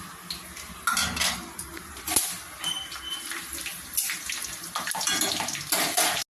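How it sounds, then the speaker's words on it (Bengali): Bay leaves, cumin seeds and whole garam masala fry in hot oil in a kadai with a crackling sizzle, overlaid by repeated clinks and scrapes of a spoon against the metal pan, close and fairly loud. "তেজপাতা আমার ভাজা হয়ে গেছে"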